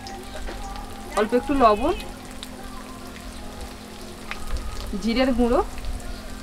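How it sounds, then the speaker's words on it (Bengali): Ginger and garlic frying in a pan for Mughlai paratha give a steady, close sizzle and crackle running beneath a person talking. "আদা রসুনটা একটু ভেজে নিয়ে ওর মধ্যে দিয়ে দিচ্ছি"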